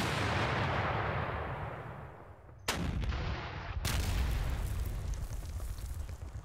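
Booming artillery and gunfire from units in the wargame Panzer Campaigns Bulge 44, a heavy rumbling blast that fades, then two sharp loud reports in quick succession followed by sustained roaring.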